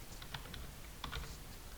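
Quick, quiet keystrokes on a computer keyboard as a web address is entered, a short run of light clicks in two small bursts, close and alone.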